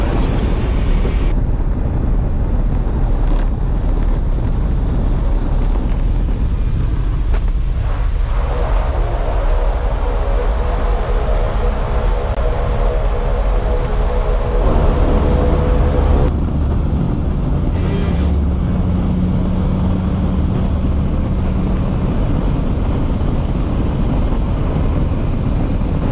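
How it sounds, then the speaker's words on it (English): Cessna Caravan single-engine turboprop plane taking off for a scenic flight over the Kimberley coast in Australia, a loud, steady cabin roar of engine and propeller throughout, with the pitch and texture shifting partway through as power builds. "So we're about to take off on the Horizontal Falls. It's a Cessna Caravan."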